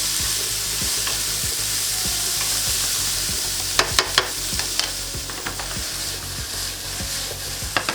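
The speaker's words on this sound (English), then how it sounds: "Now I'm gonna add the onions, and we're gonna saute the onion a little bit" Onions and chickpeas sautéing in a pan give a soft continuous sizzle, with a few sharp spoon or spatula knocks and scrapes in the second half and no voices.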